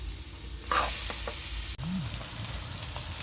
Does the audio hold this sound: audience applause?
no